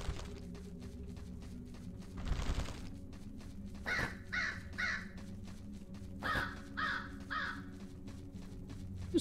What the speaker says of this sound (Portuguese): Esse corvo é chato, faz uns barulhão,